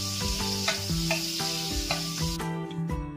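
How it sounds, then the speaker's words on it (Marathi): Bay leaf, cinnamon and cardamom sizzling in hot melted butter and oil, a steady close hiss with soft repeated pulses over a few seconds, no talk. "त्याच्यामध्ये तमालपत्र, दालचिनी आणि वेलची टाकायची आहे."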